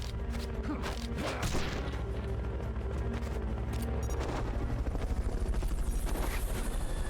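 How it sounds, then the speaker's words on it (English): A helicopter's rotor chop throbs steadily in Metal Gear Solid Peace Walker, with scattered bangs and mechanical clatter over it and no talk. "Fulton recovery helicopter is complete."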